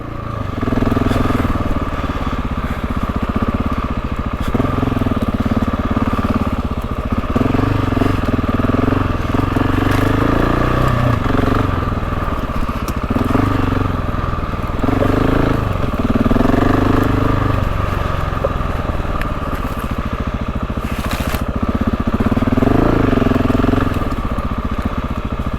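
GasGas dirt bike ridden off-road, its engine droning loud and close throughout with rising and falling revs and crackling throttle changes.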